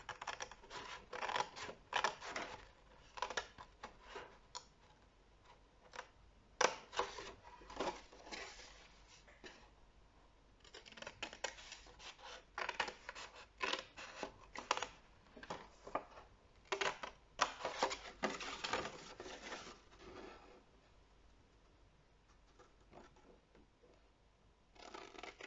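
Small precision scissors snip through paper in quick, irregular bursts of crisp cuts, close and quiet, with short pauses between runs of snipping.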